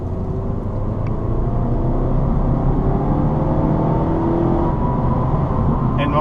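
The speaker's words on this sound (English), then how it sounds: "Mazdas always sound good when you push them to the limit" A 2016 Mazda 3 four-door hatchback in sport mode gives a steady, loud engine drone heard from inside the car, holding even for about six seconds with no clear rise or voices.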